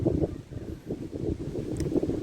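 Strong, cold wind blows outdoors in rural Thailand, buffeting the microphone with uneven low rumbling gusts that rise and fall for a couple of seconds.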